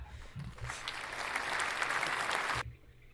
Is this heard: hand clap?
yes